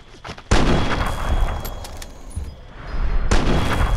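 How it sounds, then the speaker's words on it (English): Enemy gunfire in the video game Fallout 3 rattles on as a loud, dense barrage of shots for several seconds, with brief dips and surges in intensity. "I'm pretty sure it's probably this thing shooting at me."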